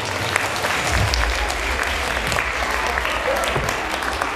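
An audience applauds at a dance olympiad award ceremony in a hall, with loud, sustained, even clapping from a large crowd throughout and a faint voice beneath it.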